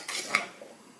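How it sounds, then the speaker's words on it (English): A spoon stirs a dry mixture of cocoa powder, sugar and salt in a bowl, giving a brief close scrape with a small clink of metal against the dish. "so we're going to stir that together"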